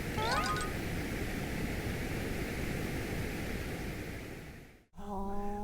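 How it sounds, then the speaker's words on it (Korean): Brown noise, a low-frequency noise with the high frequencies removed. It makes a deep, steady rumbling hiss that holds even for several seconds, then cuts out briefly before a new tonal sound starts. "마지막으로 브라운 노이즈라는 게 있는데 브라운 노이즈는 고주파"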